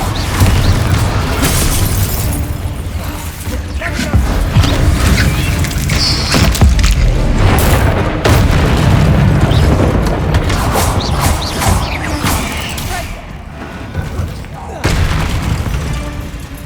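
Repeated Confringo blasting spells go off in the video game Hogwarts Legacy, with loud booming explosions and crashing impacts layered over continuous game sound and background clatter.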